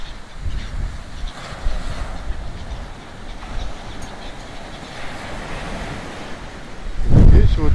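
Strong autumn wind at the Kalingrad sea shore, gusting and roaring across the microphone over the wash of surf, growing louder in a heavy buffet near the end.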